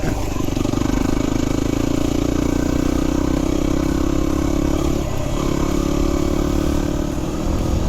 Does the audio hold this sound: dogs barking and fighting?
no